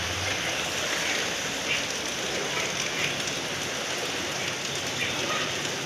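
Heavy rain pours steadily outside a house, a dense continuous hiss of falling water and drops hitting surfaces, loud and unbroken throughout with no talking.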